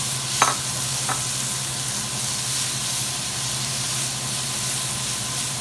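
Onion and garlic sizzle in plenty of oil as a steady, close hiss, with a couple of brief crackles near the start and no talking.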